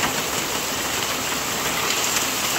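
Heavy rain pours down steadily, a dense, loud hiss of water drumming on surfaces with no pause throughout.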